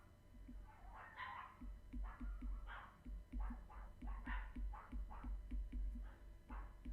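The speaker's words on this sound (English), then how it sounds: "Sorry about the dogs." Neighbors' dogs bark repeatedly in the background, a steady run of sharp barks and yips heard at a distance over a low rumble.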